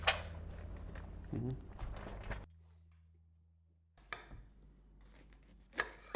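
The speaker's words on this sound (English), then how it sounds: "Then chop them into a small dice and set these aside." Bell peppers chopped into small dice on a board, a run of quick knife strokes, a quiet pause, then a few more cuts near the close.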